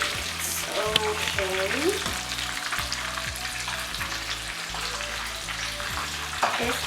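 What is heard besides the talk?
fish fingers cooking over a fire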